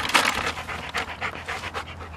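A golden retriever pants quickly and close by in a quick, steady rhythm of breaths, with no talk over it.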